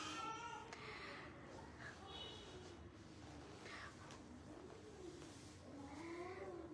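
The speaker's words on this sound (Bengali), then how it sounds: "আমার টুটু ক্যাও ম্যাও শুরু করে দিছে" A house cat meows several times in drawn-out, wavering calls, faint and fairly close in a quiet indoor room.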